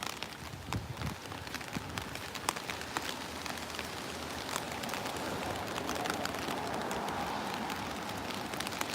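Rain falls at night on cherry blossoms in Tokyo, a steady soft patter of drops with sharper ticks and splashes scattered throughout, fairly faint and continuous.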